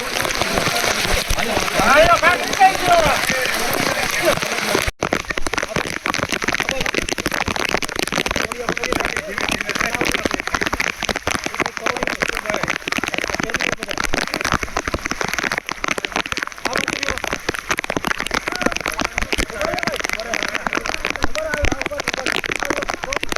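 Heavy monsoon rain in Manavadar taluka, Junagadh district, pours in a continuous dense patter throughout, with people talking over it.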